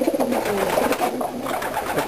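A racing pigeon coos softly and repeatedly, low rounded calls against a steady background hum.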